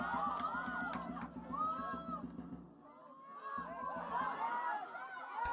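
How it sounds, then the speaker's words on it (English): Spectators at an under-14 youth football final between Bengaluru FC and Reliance Foundation Young Champs keep up a lively, chattering murmur that swells and fades. A regular thudding beat runs beneath it at first and returns later. "As you can hear the noise and the roar coming in from the crowd"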